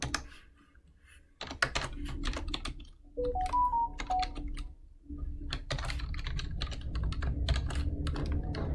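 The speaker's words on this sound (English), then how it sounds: "now we just have to type it all up" Someone types on a computer keyboard in uneven bursts of close, crisp key clicks, with brief pauses and a few short electronic beeps partway through, and no one speaks.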